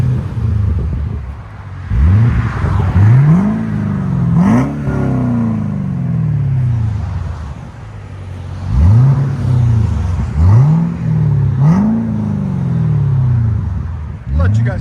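Supercharged 6.2L V8 of a 2012 Cadillac CTS-V with a Carven TR-Series exhaust, revved repeatedly in rising sweeps that fall back to a deep idle rumble, close by and loud, with no talk over it.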